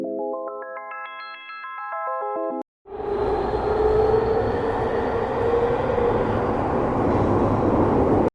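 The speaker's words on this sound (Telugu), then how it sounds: "మెజెస్టిక్ టు కెంగేరి మెట్రో ఎక్కాము." Aboard a Bengaluru metro train from Majestic to Kengeri, a short electronic chime plays, then after a brief gap the carriage rumbles and whines steadily as it runs along the track.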